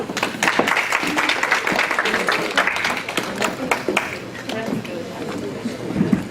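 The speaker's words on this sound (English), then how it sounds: "A hand of applause," Scattered audience applause at a community association gathering, a modest round of claps spread across the room with voices murmuring underneath throughout.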